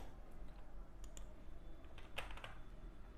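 A computer mouse clicks a few times while working in Microsoft Word, faint soft clicks over quiet room noise.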